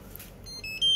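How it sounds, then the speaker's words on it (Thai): Datalogic QBT2430 wireless barcode scanner pairing with its base, giving a short series of high electronic beeps rising in pitch over about half a second, clear but fairly quiet against a faint background. "นี่ครับเสียงคือตึ๊ดตึ๊ดเมื่อกี้คือมันเชื่อมต่อระหว่างปืนกับฐานเรียบร้อยนะฮะ"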